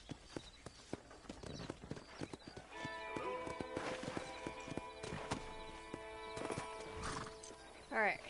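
Horse hooves clip-clop in Red Dead Redemption, with a whinny near the end, under talk and game background sound.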